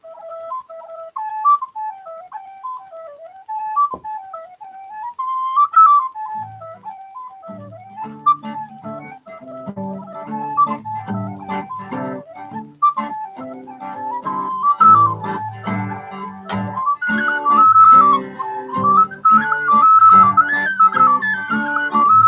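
A lilting folk melody on a whistle-like instrument plays alone at first, then a fuller, rhythmic accompaniment joins in beneath it.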